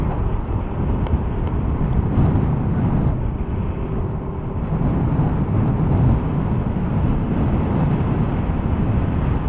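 Wind rushes past the microphone while riding a Yamaha Aerox 155 scooter, a steady loud buffeting roar with low engine and road rumble beneath, constant throughout with no voices.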